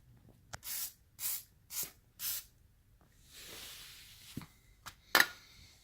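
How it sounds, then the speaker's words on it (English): WD-40 lubricant is sprayed onto a sofa recliner's mechanism in four short, sharp hissing bursts, followed by a longer, softer spray and a few clicks and knocks nearby. "So that's all you need, a WD-40."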